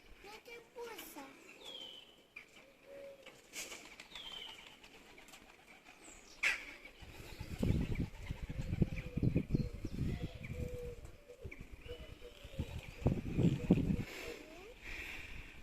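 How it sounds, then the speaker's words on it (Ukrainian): Crows caw outdoors in harsh, scattered calls, some distant and some nearer, while people talk quietly nearby. "Оце вони каркають, а вон одна сидить на дереві."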